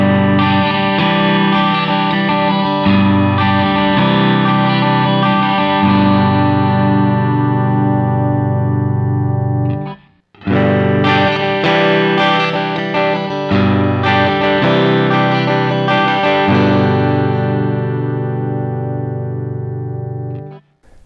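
An electric guitar plays through a Quilter Aviator Cub amplifier, heard in the room. It is loud, sustained and chorused, in two long phrases of ringing chords and notes split by a brief pause.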